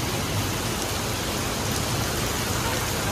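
A continuous downpour of heavy rain, loud and enveloping, hissing evenly throughout without any talking.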